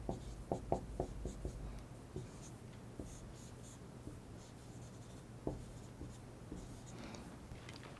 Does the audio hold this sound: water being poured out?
no